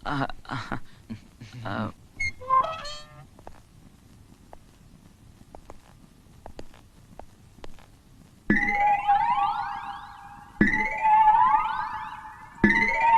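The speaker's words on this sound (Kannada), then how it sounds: "ನಿಮ್ ಫ್ಯಾಕ್ಟ್ರಿ ಸೈರನ್ ಅದು" A factory siren wails in three loud, rising-and-holding blasts toward the end, after a stretch of voices speaking and quieter background sounds.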